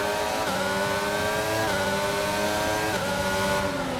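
Race car engines in the F1 22 video game, a loud continuous high-revving whine with rising pitch sweeps and abrupt drops at gear changes, steady and close throughout.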